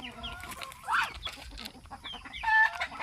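Pet chickens cluck and chatter during morning feeding, a few close, bright calls rising over soft background noise, with two louder bursts of clucking.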